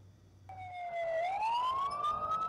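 A wailing ambulance siren rises in at moderate distance in downtown Beirut after an airstrike, its pitch dipping and then climbing steadily with faint traffic underneath.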